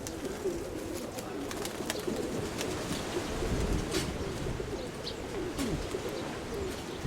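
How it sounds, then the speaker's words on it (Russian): Soft pigeon cooing repeats through a constant low rumble of outdoor noise, with faint bird chirps scattered above. "Красивый голубь"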